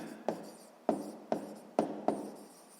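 Pen writing by hand on paper, about five quick separate strokes, close and faint with no talking.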